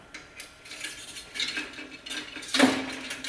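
Thin metal TIG welding filler rods, one stainless and one 4043 aluminum, clink and rattle as they are handled and wiped with acetone. Light scattered taps build to a brighter clatter near the end, close by with no talk.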